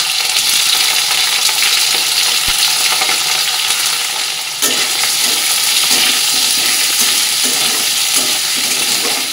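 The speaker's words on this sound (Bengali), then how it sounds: "এখানে এবার পনির আর সোয়াবিন একসাথে দিয়ে দেবো।" Loud, steady sizzling of paneer and soybean chunks frying with potatoes in a pan, with a dense broadband crackle throughout and occasional stirring clinks; no talking.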